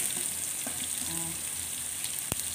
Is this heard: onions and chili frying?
yes